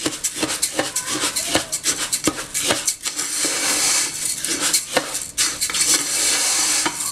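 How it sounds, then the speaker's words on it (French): A metal spoon scrapes and clanks around a pressure cooker while oxtail broth is stirred, a rapid run of loud rhythmic scraping strokes and knocks against the pot with no voice. "Bien mélanger parce qu'il ne faut pas que le sel reste concentré sous la marmite, hein, sous l'autocuisseur."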